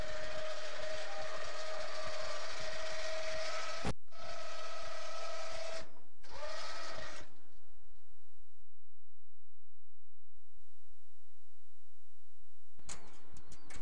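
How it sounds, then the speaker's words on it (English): A winch on a Wacker light tower lowers the mast with a loud mechanical whirring hum, broken by a sharp clunk and brief pauses, then falls silent before a short burst of motor noise returns at the end. "Activate the winch until the mast spring begins to pivot the tower down."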